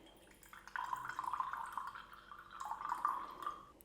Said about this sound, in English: Let's pour ourselves some coffee here.